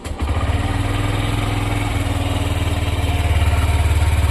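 A motorcycle in neutral is cold-started early in the morning, catching with a quick rise and then settling into a steady, close, throbbing idle.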